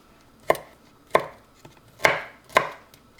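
Four sharp knife chops on a cutting board, spaced evenly about half a second apart, cutting nopal cactus paddles into small pieces, close up and with no talking.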